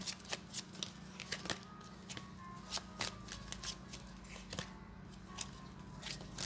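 Tarot cards are shuffled close up in a quiet room, with repeated riffling and soft snapping clicks over steady low background hum and no talk.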